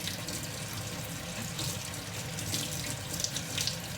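Tap water runs steadily into a sink while hair is washed, a close, continuous hiss and splash with small fluctuating spatters.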